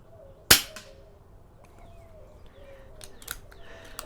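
A single sharp air pistol shot fired at a paper target, a loud close crack with a brief ringing tail, followed by a few faint clicks and handling noises.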